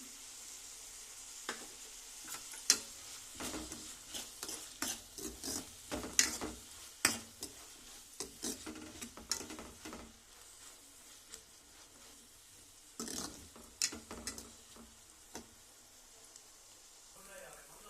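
Chopped onion pieces frying in a pan until brown with salt added, steady crackling sizzle broken by frequent scraping stirs in irregular bursts, close but fairly quiet, no one speaking.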